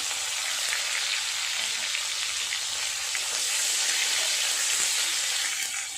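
Chopped tomatoes fry with crushed ginger in a pan, giving a steady, dense sizzle that stays close and even throughout, with faint crackles and no voices.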